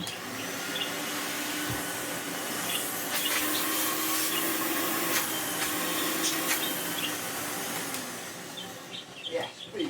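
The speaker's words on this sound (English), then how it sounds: "Another Hoover vacuum cleaner saved" A restored Hoover Sensotronic Total System 20 vacuum cleaner runs continuously with a loud, steady motor whine and airflow rush, easing off near the end with a few small knocks.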